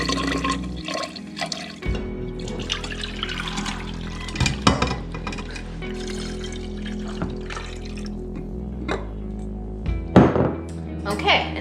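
Steeped green tea poured into a container, a steady close stream of running liquid with splashes and a few clunks of the vessel, with a voice speaking briefly over it.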